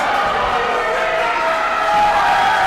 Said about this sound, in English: the crowd here at Hourglass Brewing is on fire!